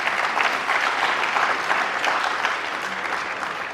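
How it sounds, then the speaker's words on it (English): Audience applause at an undergraduate engagement event at IIT Delhi, a full steady round of many hands clapping in a hall, close and even, tapering slightly at the end without talk. "So I think big round of applause for them."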